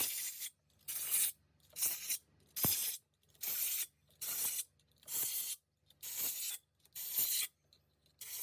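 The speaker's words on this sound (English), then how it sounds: "And for the final pass, just some brake cleaner." Brake cleaner sprayed onto a Volkswagen 2.0 TSI cylinder head in about nine steady hissing bursts, each roughly half a second to a second long with short pauses between, close and fairly loud.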